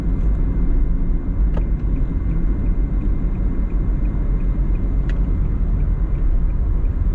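A car driving through a commercial park in Kingston, Jamaica, heard as a steady low road rumble and engine drone from inside the vehicle, with a couple of faint clicks over the constant noise.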